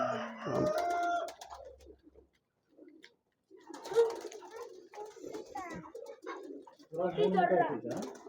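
Pigeons coo on an integrated natural farm that also keeps Giriraja and Peruvidai chickens, rabbits and ducks; soft, repeated coos rise and fall under people talking nearby.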